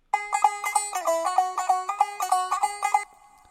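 A low-tuned tumbi, the Punjabi single-string plucked instrument, plays a fast repeating twangy riff in a steady rhythm for about three seconds before stopping, close and clear with no voices.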